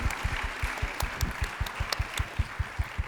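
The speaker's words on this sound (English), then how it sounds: "A big applause to all of them." An audience at a Bharatanatyam dance function claps steadily, a fairly close, rhythmic patter of hands lasting a few seconds with no talking.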